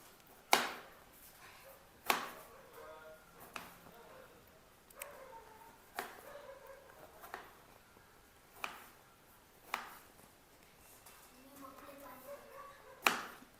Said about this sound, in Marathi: तर आता टोमॅटो कापून घ्यायचा आहे